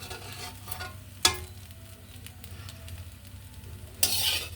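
Garlic, green chillies, curry leaves and ajwain fry in hot oil for jeera rice, a steady low sizzle with a couple of sharp clinks from stirring.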